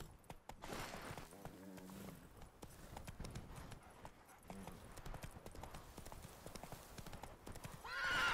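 The horse Roach clip-clops along in The Witcher 3: Wild Hunt, hooves striking in a steady walking rhythm, with a neigh partway through and a louder rise at the end; a voice speaks briefly.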